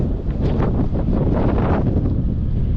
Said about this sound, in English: Super windy day, casting into the wind.